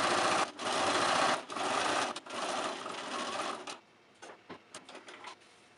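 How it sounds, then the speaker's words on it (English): A sewing machine runs a wide zigzag stitch along a stretchy seam on a Bo Peep costume. Loud, continuous bursts of whirring stitching are broken by brief pauses, then give way to a few quick, light taps. "make sure you're using a good zigzag stitch"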